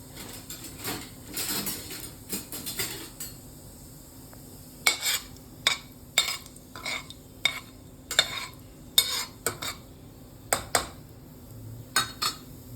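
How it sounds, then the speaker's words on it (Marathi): A spatula clinks and scrapes against a pan as a spinach and lentil mixture with cumin is sautéed. The metallic taps and scrapes come in irregular bursts, close and fairly crisp, over a faint background hum with no talking. "हे चांगलं परतून घ्यायचं."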